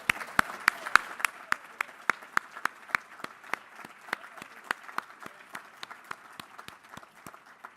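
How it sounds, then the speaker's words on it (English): A university alumni day audience gives the committee a round of applause: sparse, distinct claps ring out in a steady rhythm over a soft bed of crowd clapping that thins gradually toward the end. "round of applause?"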